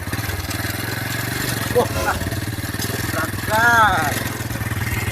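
A motorcycle engine runs at a steady, throbbing idle close by, rising briefly in revs, while people talk over it.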